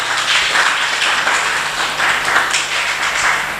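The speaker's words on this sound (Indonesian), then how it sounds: "Terima kasih, tepuk tangan dulu." Audience applause at an Islamic boarding school gathering, a loud dense patter of many hands clapping steadily throughout.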